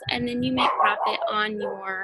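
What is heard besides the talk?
dogs barking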